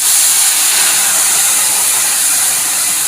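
Hot milk hits a hot pan with rice and cardamom for mango kheer, a loud, steady broadband hiss that holds evenly for a few seconds with no voices.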